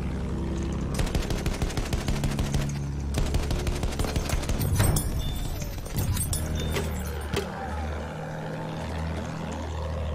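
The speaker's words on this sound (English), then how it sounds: "someone is shooting at me" Rapid machine-gun fire in Battlefield 1 around an attack plane, long rattling bursts over a droning propeller engine, with further shots and impacts scattered through the rest.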